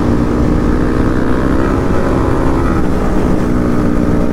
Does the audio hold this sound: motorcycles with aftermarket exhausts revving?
yes